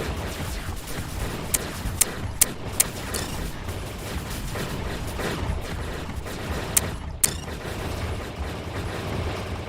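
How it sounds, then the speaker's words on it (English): A shotgun fires in the Crutarch Royale video game, with a handful of sharp, cracking blasts in two short bursts over a steady low rumble of background game noise. "the shotgun does exactly what it's supposed to"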